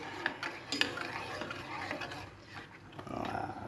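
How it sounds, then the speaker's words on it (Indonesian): A spoon scrapes and stirs coffee boiling in a pot with soft clinks, a steady bubbling simmer underneath, fairly close. "Direbus sambil diaduk."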